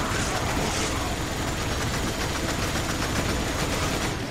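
Sustained machine gun fire in Resident Evil 5 Mercenaries mode, a dense, unbroken roar of rapid shots that stays loud and close throughout.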